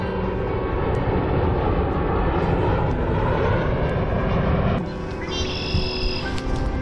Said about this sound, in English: Comes a plane in for the landing.